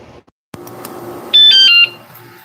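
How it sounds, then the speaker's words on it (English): A sharp click, then a steady low hum, followed by a loud burst of high electronic alarm tones lasting about half a second from a motorcycle alarm system, close to the mic. "here's my alarm system"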